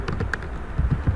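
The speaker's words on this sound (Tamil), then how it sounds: "டைப் பண்ணிக்கிறேன்." Keys clacking on a computer keyboard as a username and password are typed, a handful of quiet taps with small gaps, close by and faint, with no voices.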